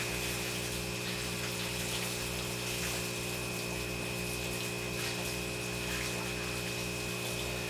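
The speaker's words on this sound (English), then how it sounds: "I'm super excited about finally putting water in the tank." Water pouring into a 180-gallon rimless aquarium during a store display setup, a steady hissing rush with a constant pump-like hum beneath, continuous and fairly close.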